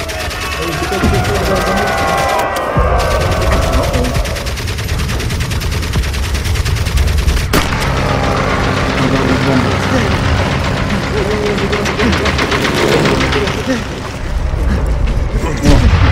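Bombs exploding in the World War I video game Valiant Hearts: The Great War, loud booming blasts and rumbling gunfire-like bursts that fill the scene throughout, with someone talking over them.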